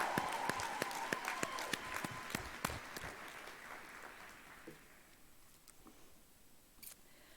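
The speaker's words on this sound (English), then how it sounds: "So I now ask that you give your support system a round of applause." Graduation ceremony crowd applauding at a university health sciences stage-crossing event, loud crisp claps at first that gradually thin and fade to scattered faint claps, with a few camera shutter clicks.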